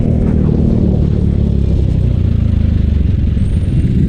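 Heavy road traffic on EDSA forms a loud, steady low rumble of engines and vehicles throughout, with no talking.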